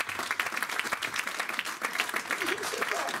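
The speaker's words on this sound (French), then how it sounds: "Donnons une acclamation au Seigneur." A church congregation claps and acclaims the Lord during a French-language sermon, a dense, continuous burst of many hands applauding with voices mixed in, loud and close throughout.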